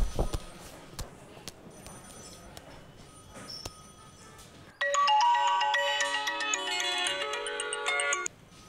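A house telephone rings out loud and close in the second half, a bright electronic ringtone pattern after several seconds of quiet room noise with scattered small knocks; no talking.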